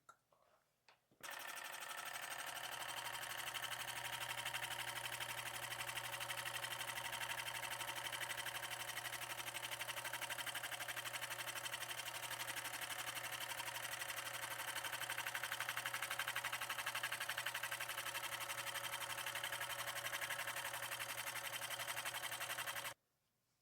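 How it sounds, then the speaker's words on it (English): A boring machine bores out 50cc engine cases with a steady, sustained machining drone that holds at constant loudness for over twenty seconds before stopping abruptly. "can see that boring machine does a pretty slick job of these cases."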